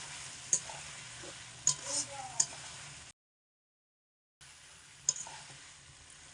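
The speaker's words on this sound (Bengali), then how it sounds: "ঢাকনাটা খুলে মাংসটা একটু নাড়াচাড়া করে দিতে হবে" Mutton curry being stirred in a pan, with scraping spoon strokes over a low simmer, broken by a brief silent gap partway through.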